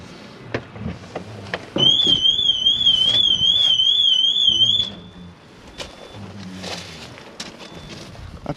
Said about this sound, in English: That's just the alarm working, which this customer's had added.